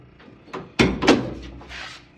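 A car door swings shut onto a newly installed door striker, giving a couple of solid thuds close by with a brief latch click.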